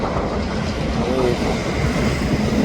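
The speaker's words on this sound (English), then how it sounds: "A 4-unit train going out." A four-unit freight train rolls past outbound as a loud, steady, close rumble of wheels and machinery that fills the whole moment.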